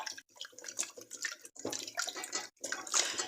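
Tap water runs and splashes in short bursts while food is rinsed in a kitchen sink, fairly faint and close, with brief pauses where the flow stops.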